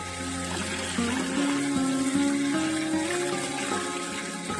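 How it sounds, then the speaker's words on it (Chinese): Celery stalks being washed under a running kitchen tap, a steady close stream of water splashing over the vegetable with shifting tone as the stalks move through the flow, no talking. "接着用流动的清水把芹菜清洗干净"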